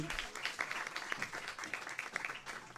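An audience applauds during an event for children's and adolescents' dignity, as a congresswoman's representatives are acknowledged. The clapping is brisk and continuous, at moderate loudness, with no speech over it.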